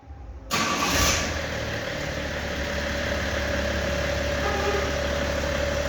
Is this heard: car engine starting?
yes